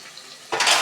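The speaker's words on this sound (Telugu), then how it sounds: "దీంట్లో వాటర్ పోయా" Water is poured into a cooking pot in a home kitchen: a sudden close splashing gush starts after a quiet moment and keeps going to the end.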